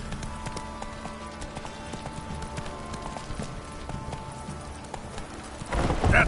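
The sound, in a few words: horse galloping in The Witcher 3 video game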